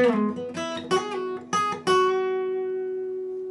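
Guitar solo played at full speed: a quick run of four or five picked notes, ending on a long sustained note that rings out and fades, close and clear with no talk.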